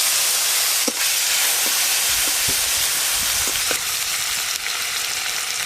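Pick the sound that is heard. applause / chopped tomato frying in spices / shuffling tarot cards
chopped tomato frying in spices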